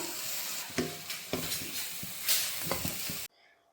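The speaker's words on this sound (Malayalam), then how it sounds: "നന്നായിട്ട് നമുക്ക് ഇളക്കി യോജിപ്പിക്കുക" Elephant foot yam flower stir-fry is stirred in a hot pan, steady sizzling with repeated close scraping and tapping strokes of the spoon, before the sound cuts off abruptly.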